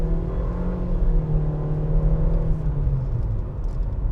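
The 1.6-liter four-cylinder engine of a 2021 Nissan Versa S hums steadily from inside the sedan while driving, with a low drone and road rumble and a slight pitch change, heard without talk.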